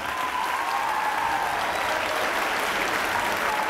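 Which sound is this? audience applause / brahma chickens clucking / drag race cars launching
audience applause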